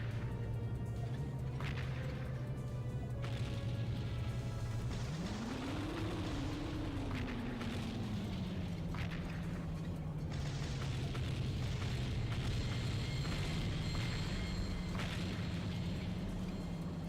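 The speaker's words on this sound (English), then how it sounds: "Shooting missiles." Missiles launching and exploding in the PS2 game Seek and Destroy: a continuous loud roaring rumble with a steady engine drone and a rising whoosh midway, repeated booming bursts layered throughout, no voices.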